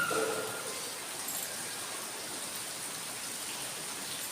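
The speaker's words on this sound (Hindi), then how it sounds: "बहुत ज़्यादा तेज़ बारिश है और बिल्कुल जम के बरस रही है।" Heavy rain falls in an even, continuous wash of noise, with a few faint tones at the very start.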